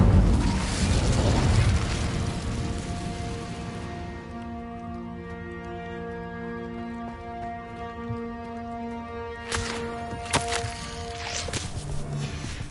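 Casting the Incendio fire spell in Hogwarts Legacy releases a loud roaring whoosh of flame for the first few seconds, fading into sustained tonal music, with a few sharp cracks and impacts later on.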